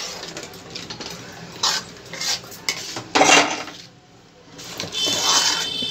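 A spoon scrapes and clinks against a pot while red chili is mixed into masala for murga musallam, several close metallic knocks and scrapes with a brief quiet pause before the stirring resumes.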